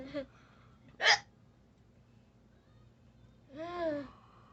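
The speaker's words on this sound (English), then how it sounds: "5 minutes of hiccups so far." A girl hiccups near the mic: a short, sharp catch around one second, then a longer voiced hiccup with a rising, squeaky tone close to four seconds, set against quiet room hum and no talk.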